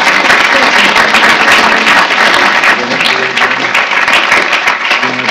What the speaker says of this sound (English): please, another round of applause for our panel